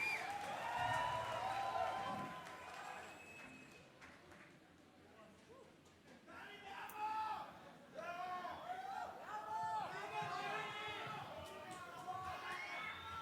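A concert crowd at a band's 2018 show at Lunario chants the band's name in rhythmic, repeated group shouts, starting after a quieter stretch and building through the second half.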